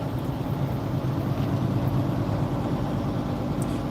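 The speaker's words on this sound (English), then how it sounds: "Every part of this truck you can hear." A Mack truck idles with the engine droning low and steady while the cab interior rattles faintly, heard from inside the cab, continuous and without voices.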